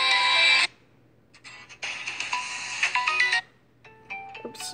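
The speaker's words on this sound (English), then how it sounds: "I got the Samsung Over the Horizon S9 ringtone on here." The Samsung Over the Horizon S9 ringtone plays from a phone, loud and close, its bright melodic notes in several bursts separated by short silences.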